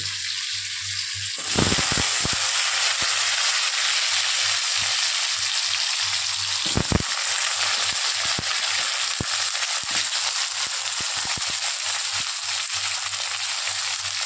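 Thinly sliced potatoes drop into a pan of simple Bengali fish curry with bele fish, bursting into a loud hiss, then a steady sizzle and crackle with occasional stirring clinks, close up and without talk.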